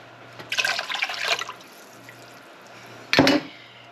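Water is poured from a jar into a soup pot, making a splashing burst of about a second, then a short, louder second splash after a pause.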